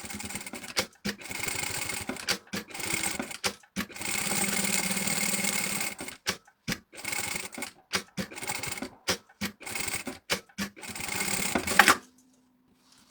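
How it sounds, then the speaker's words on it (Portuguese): A sewing machine stitches a seam at presser-foot width in rapid mechanical bursts, with runs of steady whirring broken by short pauses and stop-start taps before falling silent near the end. "Vamos fazer uma costura à largura do calcador"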